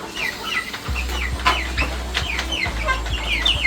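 Chickens cluck and chatter together in a busy flock in their coop, with steady low background noise beneath their overlapping calls.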